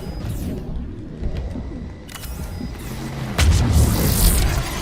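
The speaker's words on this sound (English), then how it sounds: "Firing another salvo." Weapons fire and explosions from a salvo in the Mass Effect 3 battle on Thessia, rumbling continuously with a heavier loud blast burst near the end, over dense background battle noise.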